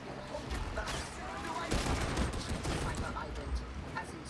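Rapid gunfire and explosive bursts from the video game Warhammer 40,000: Darktide, played as an Ogryn, roar loud and dense throughout while a voice talks beneath the combat.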